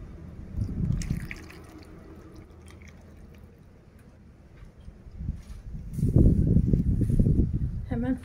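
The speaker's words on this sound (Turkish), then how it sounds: "Şöyle suyunu da, tuzunu, yağını" Water poured over stuffed peppers with salt and oil, splashing and trickling in two bursts, louder near the end, with a voice talking over it.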